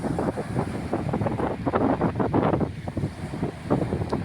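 Sea waves washing onto a calm beach at Marang on Malaysia's east coast, with steady wind buffeting the microphone; a continuous, fairly loud wash of surf and gusts with no talking.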